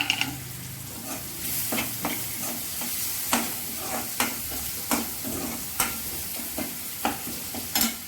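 Crushed ginger and garlic fry in a pan with chili powder for a mushroom pepper masala, under a soft sizzle punctuated by regular, fairly evenly spaced scraping stirs of a spoon against the pan.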